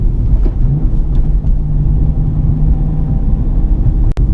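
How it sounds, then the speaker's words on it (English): Manual car engine revving while rev-matching a downshift into third, a steady loud low drone of the engine and road noise with a sharp click near the end. "push the clutch in, and go to 3rd, but at the same time give it some gas to get the RPMs to go up"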